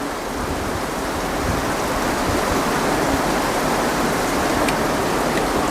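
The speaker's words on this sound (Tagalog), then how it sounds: "Ang lakas ng ulan." Heavy rain pours steadily and loudly, a dense unbroken hiss filling the whole stretch with no talk over it.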